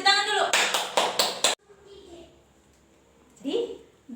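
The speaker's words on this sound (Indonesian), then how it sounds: "tepuk tangan dulu" A class of children claps in a quick, sharp burst of about six rhythmic claps. A teacher is then heard speaking faintly, and a voice briefly comes in near the end.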